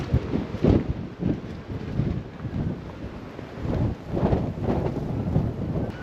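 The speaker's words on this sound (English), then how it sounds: "that wind is just blowing the sand right in my face" Strong wind buffeting a microphone on a stormy Blackpool beach, with loud low rumbling gusts that rise and fall in waves throughout, no talking over it.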